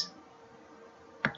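A single sharp computer mouse click lands near the end, following a long quiet stretch with faint low background hum and a brief soft tick at the very start.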